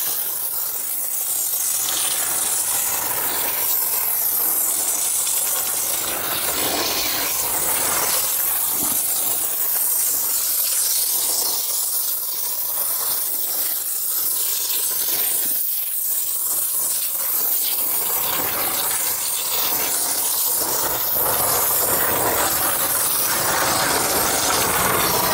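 A Marolex pump sprayer mists wheel cleaner onto a Ford GT wheel in a loud, close, continuous hiss that runs without a break, its texture shifting slightly as the spray moves.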